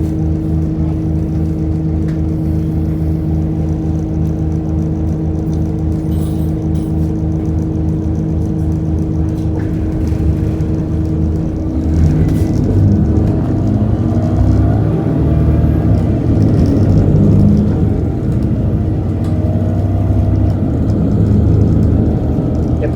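Transperth bus engine drones steadily on the highway in a loud, continuous low rumble and whir, rising slightly in intensity partway through as the ride carries on without talk.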